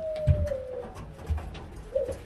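Modena pigeons in a loft give a few soft, low, throaty coos close by, spaced in short bursts over a thin whistle-like tone and quiet background.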